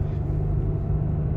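A 2023 Toyota Tacoma engine downshifting in manual mode, a brief steady low rumble of the engine heard from inside the cab.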